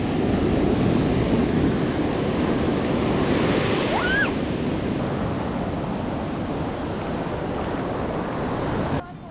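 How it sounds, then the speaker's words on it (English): Waves washing onto a Mediterranean Sea beach make a steady, loud broadband rush mixed with wind buffeting the microphone, with a brief chirp partway through. "So we are on a beach in the Mediterranean Sea"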